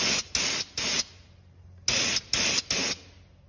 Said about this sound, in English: Anything you got that's metal that you want to keep from rusting, spray this stuff on it.